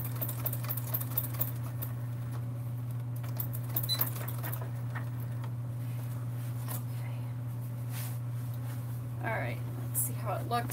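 A home sewing machine stitches vinyl for a summer sling bag, giving a steady mechanical hum with faint rapid ticking. It plays softly, with small handling clicks and rustles over it.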